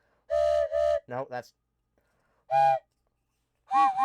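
A human voice imitating the steam whistle of Gordon the engine, with two sustained hooting tones, later repeated, broken up by brief spoken words.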